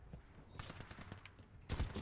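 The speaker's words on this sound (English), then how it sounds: "I just shot him twice with the damn shotgun" Shotgun blasts in the shooter game Titanfall 2, a few loud bursts, the strongest near the end, amid busy game noise with no talk.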